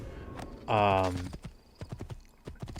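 A horse whinnies loudly and briefly in Assassin's Creed 2, followed by a run of light, irregular hoof clip-clops close by, with a few quieter taps between them.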